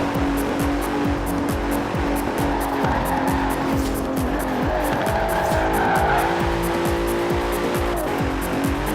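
Bentley Continental racing in the Forza Horizon 4 video game, engine revving loud and close through repeated gear shifts while tires squeal and skid continuously through corners.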